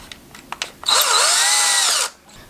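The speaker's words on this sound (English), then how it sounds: "and drill right through that." A power drill with a 3/32 bit whirs loudly for about a second, its pitch dipping as the bit bites into a spray paint cap, after a few faint clicks and taps.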